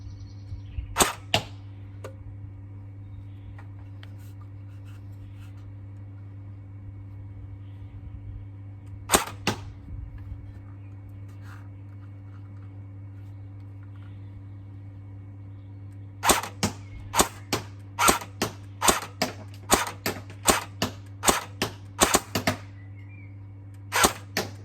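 A CYMA airsoft gun fires ASG Devil Blaster BBs as sharp, snappy single shots, a few spaced-out pops early on, then a faster string of about a dozen cracks over a faint steady hum.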